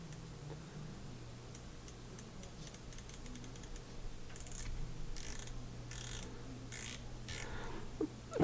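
A Steiner GS3 4-20x50 riflescope turret is wound through its quarter-MOA detents, giving a close, rapid ratcheting run of crisp clicks in bursts that grow louder toward the end.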